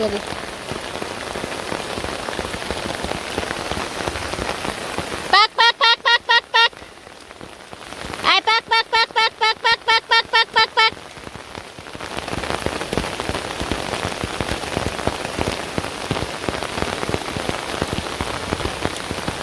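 Rain falls steadily in a dense, continuous hiss, broken in the middle by a few seconds of rapid, rhythmic clicking or chirping bursts before the downpour continues alone.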